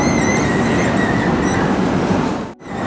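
Briefcase trolley wheels rattle along a railway station platform in a continuous, close, gritty rolling noise that briefly dips near the end, with no talk over it.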